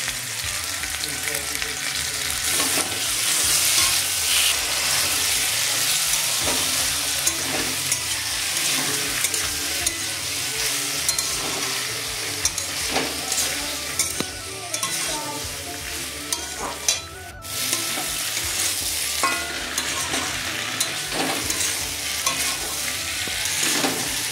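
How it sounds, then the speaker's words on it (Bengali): Drumstick stems and potatoes sauté in a pan with chopped tomato and ground cumin paste, a steady, close sizzle with repeated scraping and stirring and one brief sharp clatter partway through, and no voice. "ডাঁটা আলু কষানো হয়ে গেছে"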